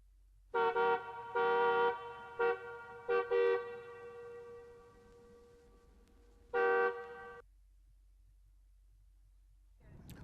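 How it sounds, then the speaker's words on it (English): A car horn honks in a series of short and longer toots, loud and close, with a final extended blast after a pause, alone over a quiet background. "That last sound effect of the car honking"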